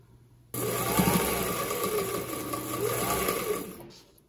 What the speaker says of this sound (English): So I'm going to start by sewing this sashing on the top and bottom